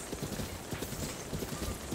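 Horse hooves clip-clopping in a Zelda video game, a quick, steady rhythm of soft thuds at moderate distance over a faint game ambience.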